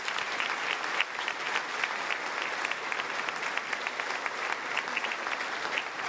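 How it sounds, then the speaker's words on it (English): Steady applause from an audience at a civic center tribute, an even wash of many hands clapping that holds for the whole stretch without rising or fading. "Give all of them a round of applause."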